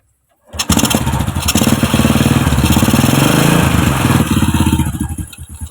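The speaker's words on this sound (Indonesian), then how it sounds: "Setelah itu kita menghidupkan mesin." A motorcycle engine cranks and catches during routine servicing, then runs on at a steady, loud idle with a rapid rhythmic putter that tapers slightly near the end.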